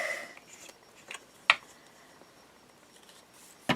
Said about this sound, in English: Those scissors are so noisy on this glass.